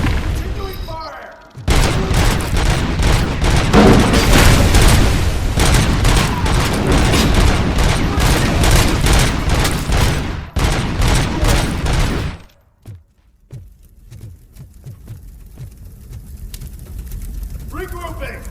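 Heavy gunfire in RoboCop: Rogue City, a loud continuous barrage of rapid shots and booms for about ten seconds, then scattered fainter shots, with a voice speaking over it.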